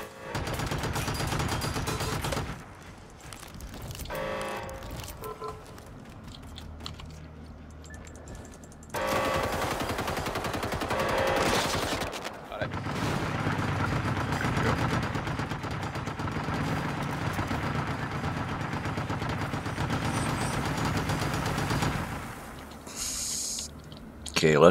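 An automated turret firing in the video game Generation Zero, a loud sustained burst of gunfire in several long stretches with short pauses and an abrupt bang at the end, with someone talking over it.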